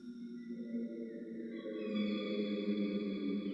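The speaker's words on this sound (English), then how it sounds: "I'll just audition the end of the airplane sound, I believe it is." A recorded airplane drones to its close with heavy added reverb: a sustained tonal hum of stacked steady pitches that shifts and swells midway, then hangs in a smeared, echoing wash without pause.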